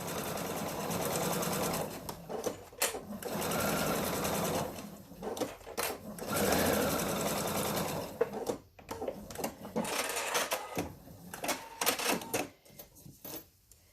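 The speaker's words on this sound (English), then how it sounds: "So now I'm going to sew the other side." A sewing machine stitches ribbons onto a quilt square for a lattice-pattern lap pad, running in several bursts that each last a few seconds, separated by short pauses and softer handling noises.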